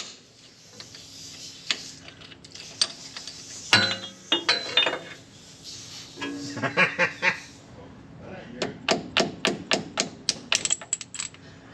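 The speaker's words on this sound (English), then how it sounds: "What are those metal clicking noises landing on the ground?" Repeated sharp metallic clicks and clinks of metal pieces falling from a vehicle's transfer case, scattered at first, then a quick rapid series of small pieces tapping down onto a hard surface.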